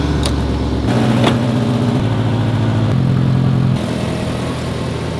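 BMW E38 735i engine running with a leaky exhaust, a loud steady idle with low rumble that shifts pitch slightly, then settles lower near the end, with no talking.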